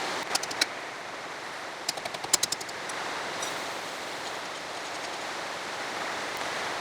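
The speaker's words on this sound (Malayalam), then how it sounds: "നല്ല അടിപൊളി മഴ പെയ്യുക." Heavy rain falling steadily outdoors as a dense, even hiss, with a few sharp tapping drips standing out near the start, and no voices.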